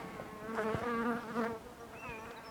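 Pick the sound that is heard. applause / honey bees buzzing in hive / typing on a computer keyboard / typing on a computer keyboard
honey bees buzzing in hive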